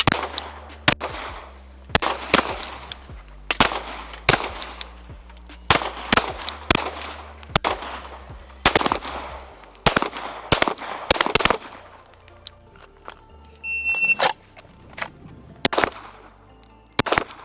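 Handgun shots crack out in rapid, evenly spaced strings during a shooting class drill on an outdoor ranch range, loud and close, with short pauses between volleys and a quieter stretch near the end.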